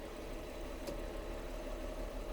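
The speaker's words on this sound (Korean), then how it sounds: "엔진 소리 한번 들려드릴게요." A 3.2-litre, 225-horsepower rear-wheel-drive car engine idles smoothly and steadily at a low hum, close by, with no talking over it.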